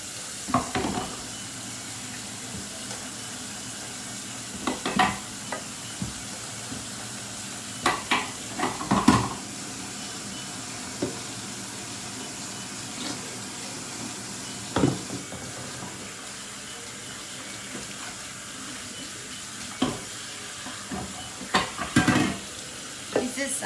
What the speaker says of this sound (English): Just sanitizing all the food bowls for the animals.